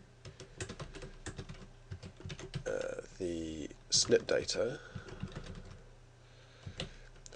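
Keys tapping on a computer keyboard while entering commands into the Python interpreter, scattered quick clicks throughout with someone speaking over them.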